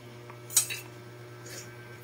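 A metal lid set back onto a pot of simmering tilapia soup gives a single soft clink and rattle against a steady low kitchen hum, followed by a faint scrape.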